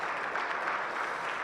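An audience at a conference on taxes for digital services applauds a speaker, steady dense clapping that fills the short stretch evenly at moderate loudness.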